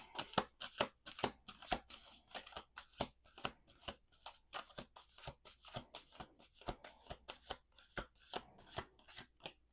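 A deck of cards is shuffled again and again, quick crisp riffles and taps in a steady rhythm, close and fairly quiet with no talking.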